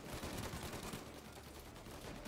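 Gunfire in the crime action game Mafia: Definitive Edition comes as a faint, dense rattle of shots, rapid and burst-like over a couple of seconds, low in level with no speech.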